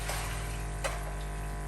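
Water from a Miele steam oven's overflow container pours steadily into a kitchen sink, a continuous close splashing rush with a faint tick or two partway through.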